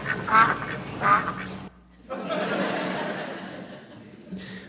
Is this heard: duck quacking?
yes